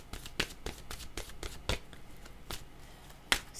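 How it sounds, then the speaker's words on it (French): Playing cards shuffled and drawn by hand at a table, a quick run of crisp, close riffling flicks and snaps, with a louder single snap near the end and no talk. "Là, je vais demander une carte."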